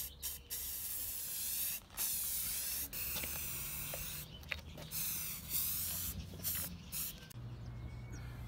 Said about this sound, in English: and then we spray painted over it.